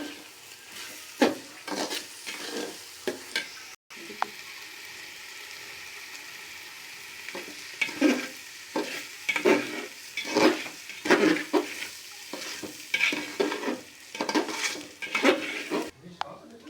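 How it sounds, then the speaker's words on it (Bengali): Rice frying in a pan with bay leaves and garam masala, stirred with a utensil in repeated scraping, clattering strokes over a steady sizzle, close and fairly loud. "এখানে চাউলগুলা দিয়ে দিলাম, দিয়ে এখন একটু ভেজে নেব"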